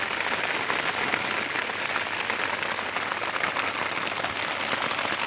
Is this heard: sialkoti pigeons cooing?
no